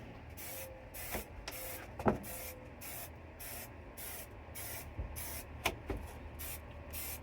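Adhesive hisses from a spray can in short, evenly repeated bursts while it is applied for a Thinsulate install inside a Ram ProMaster campervan, with a few clicks and knocks in between, moderately quiet and close.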